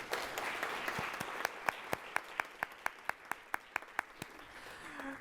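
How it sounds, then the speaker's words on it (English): A small audience at a Columbus Metropolitan Club talk gives a round of steady, crisp clapping, individual claps standing out sharply in a quick even rhythm before trailing off. "let's give them a round of applause before we get everything going"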